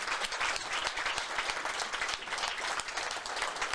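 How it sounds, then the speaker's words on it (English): Steady, dense applause and clapping from a crowd at a ladies minor Gaelic football final between Dublin and Meath, sustained throughout without voices on top. "And now Meath getting a nice round of applause as well"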